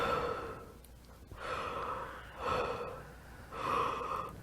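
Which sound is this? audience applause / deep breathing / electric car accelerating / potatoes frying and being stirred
deep breathing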